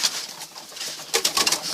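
Tippler pigeons nearby give soft, brief coos and rustling bird sounds in short bursts, close and fairly clear, with no talking.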